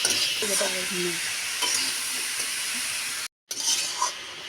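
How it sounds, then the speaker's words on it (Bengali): Bottle gourd sautés in a pan with a close, steady sizzle while a utensil stirs it in repeated scraping strokes, with a brief silent gap near the end. "এবার আমি একটু নাড়াচাড়া করবো একটুখানি কষে"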